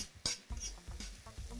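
Fava beans in olive oil get stirred in a pan, with a few scraping, clattering strokes and soft sizzling underneath, close and fairly quiet.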